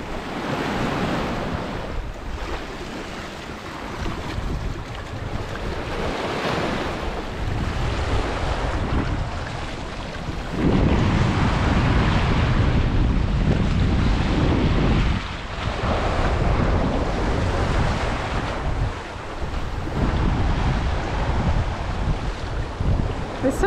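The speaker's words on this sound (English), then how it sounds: "So this is the beach area here, and it's white sand" Surf washing onto a white sand beach in Grenada, with waves rolling in steadily and loud wind buffeting the microphone throughout; swells build and break in broad surges with no talking.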